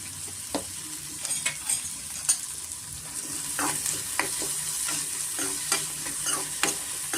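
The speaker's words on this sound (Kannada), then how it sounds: "ಈರುಳ್ಳಿ ಸ್ವಲ್ಪ ಎಣ್ಣೆಯಲ್ಲಿ ಚೆನ್ನಾಗಿ ಫ್ರೈ ಆಗಿದೆ" Onions fry in oil with salt and turmeric for a butter palak paneer gravy, making a continuous close sizzle with repeated scraping stirs and soft spoon taps throughout.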